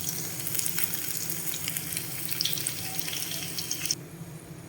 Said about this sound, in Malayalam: വെളുത്തുള്ളിയും ഇഞ്ചിയും പച്ചമുളകും ചെറുതായിട്ടൊന്ന് മൂത്ത് വന്നിട്ടുണ്ട്